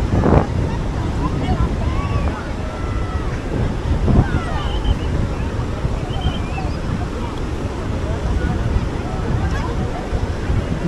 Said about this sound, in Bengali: বেশ বড় বড় ঢেউ।